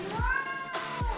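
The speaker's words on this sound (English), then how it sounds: "Yes! We have a cat too." A pet cat named Lily meows twice up close, long drawn tones with a short pause between.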